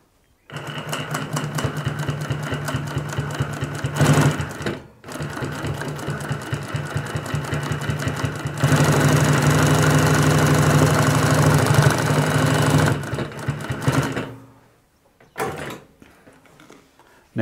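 A Typical GC20606-1HL18 industrial high lift compound feed walking foot sewing machine stitches in loud, rapid, steady mechanical runs, stopping briefly around the middle, then winding down to a few short bursts and clunks.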